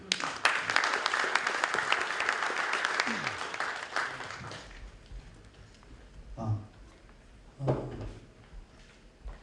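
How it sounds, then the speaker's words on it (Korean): An audience at a forum on inter-Korean infrastructure cooperation in Jeju claps to welcome a speaker, dense applause for about four seconds that fades out, followed by a quieter room with a few scattered knocks and bumps. "박수로 맞이해 주시기 바랍니다"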